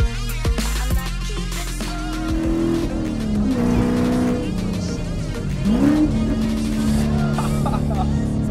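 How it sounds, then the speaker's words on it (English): A C7 Corvette Stingray Z51 with a V8 engine and 7-speed manual accelerates hard, its loud, close engine roar climbing through the revs, dropping at a gear change, then rising again with a hint of tire squeal. "This is a C7 Corvette Stingray Z51 package. with a nice sounding V8 engine"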